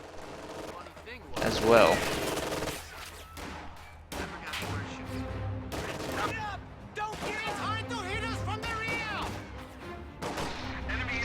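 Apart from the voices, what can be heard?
rifle gunfire in a video game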